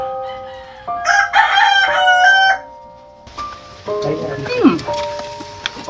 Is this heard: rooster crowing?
yes